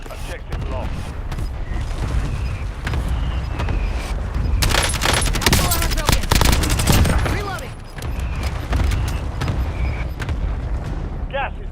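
Dense, sustained gunfire in the Black Ops 6 Warzone battle royale on Verdansk, rapid automatic bursts rolling continuously with booms and mechanical clatter, loudest near the middle and carrying on throughout with voices mixed in.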